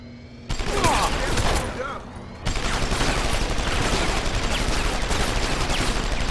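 Heavy automatic gunfire from a cybernetic gun arm mounted on a hulking enemy in Deus Ex: Human Revolution, loud sustained bursts with a short lull before the barrage resumes and continues without pause.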